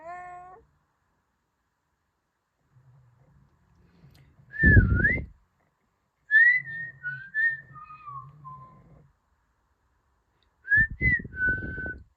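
Electronic whistled chirps from a Ropet robot pet toy in short melodic bursts, separated by pauses, with brief buzzy thumps of a small mechanism beneath some phrases.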